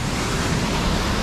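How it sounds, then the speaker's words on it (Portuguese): Strong flow of water at the Cachoeira das Antas waterfall in Visconde de Mauá, a steady, dense roar of rushing water that fills the whole clip without pause. "tem um fluxo de água aí bem forte"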